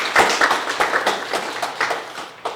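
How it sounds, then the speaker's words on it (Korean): A short burst of audience clapping at a university semester-opening Buddhist service, many hands slapping in an uneven rhythm that thins out toward the end, with no talk. "박수 한번 칠까요?"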